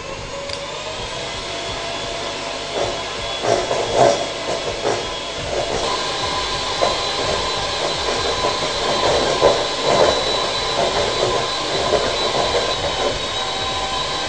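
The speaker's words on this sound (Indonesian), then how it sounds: "Oke, kita kocok terlebih dahulu." An electric mixer beats icing sugar, cake emulsifier and egg yolks for a peach polka-dot roll cake, making a steady whirring drone for the whole stretch with small rattling surges and no talking.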